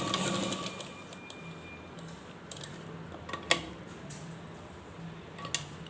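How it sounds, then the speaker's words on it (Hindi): A sewing machine stitches along a folded two-inch-wide fabric strip for a turban piece, giving a soft, steady mechanical whir with scattered light clicks and taps throughout, close by and fairly quiet. "इस तरह से सिलाई लगाना है।"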